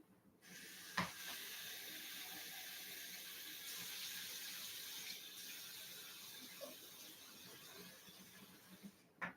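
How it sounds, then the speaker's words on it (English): Tap water runs steadily into a cooking pot for a brunch dish, a continuous hissing splash lasting several seconds, close and moderately loud, with a couple of brief clinks and no talk. "let's put about 2 cups of water in there."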